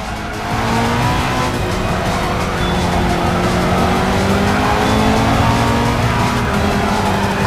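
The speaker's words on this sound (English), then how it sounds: "The Koenigsegg is launching itself forward with inconceivable speed." A Koenigsegg race car in a racing video game accelerates hard and overtakes, with a loud, continuous high-revving engine roar, rising gear whine and tire noise throughout.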